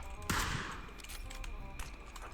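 A grenade blast in PUBG bursts sharply and loudly, followed by a fainter second crack amid scattered in-game gunfire.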